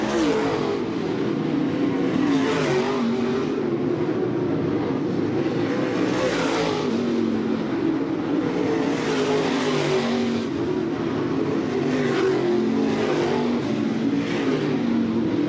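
Late model race cars roar around a dirt track, engines revving and swelling in repeated waves as the cars pass and fade, with a continuous loud motor drone in between.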